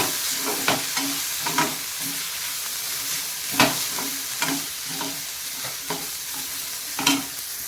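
Stuffing being stirred with turmeric powder in a hot pan for stuffed chilli bajji, a steady sizzle broken by repeated scraping strokes of the spoon, close and fairly loud, no talking.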